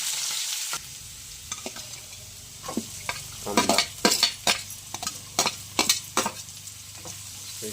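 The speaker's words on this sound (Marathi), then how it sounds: "तेल तापलं मस्तपैकी कढीपत्ता लागला लसूण" Curry leaves and garlic frying in hot oil, a soft sizzle with bursts of crackling and clattering spoon stirs that get busier midway.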